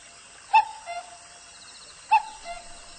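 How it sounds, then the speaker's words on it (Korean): A bird calls twice at night beside a dark lakeside hillside, each call a clear, sharp two-part note spaced well apart against a quiet background hiss. "그때 어디선가 청아하게 뻐꾸기가 울었다"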